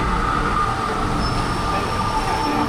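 A BTS Skytrain rumbles past close by on the elevated line at Phloen Chit, Bangkok, in a steady roar, with a faint high squeal of wheels on the rails.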